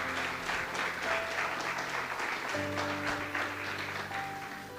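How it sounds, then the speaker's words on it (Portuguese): A church congregation applauds during a sermon, a sustained broad patter of clapping with a low organ or keyboard chord held underneath throughout. "Você pode aplaudir a Jesus, amém?"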